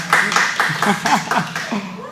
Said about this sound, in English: You guys can clap. It's okay.